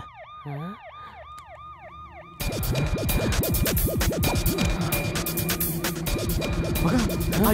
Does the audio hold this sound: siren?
yes